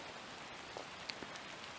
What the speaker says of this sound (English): it's definitely coming down. Not pouring, but it's pretty good.